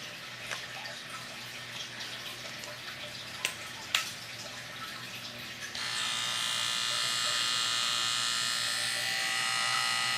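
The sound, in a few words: baby electric hair clippers running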